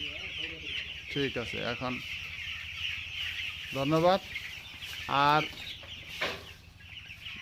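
A flock of 640 twelve-day-old broiler chickens on a farm clucks steadily throughout, with bursts of louder, nearer clucks rising over the background while people talk.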